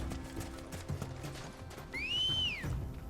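A chocobo mount in Final Fantasy XVI trots with rhythmic clip-clop footsteps, then a clear rising-and-falling whistle sounds loudly near the end.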